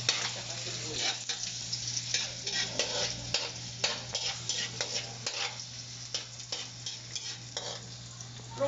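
Onion, ginger and garlic sautéing in a pan for a crab and vegetable coconut stew, with steady close sizzling, repeated scrapes and stirring knocks from a utensil, and a low constant hum beneath throughout.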